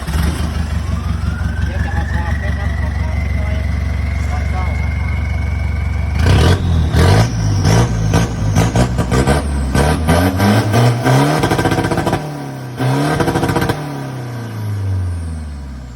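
A 2013 pickup truck engine idles with a steady low rumble, then revs repeatedly in loud bursts, the pitch climbing and falling with each throttle blip.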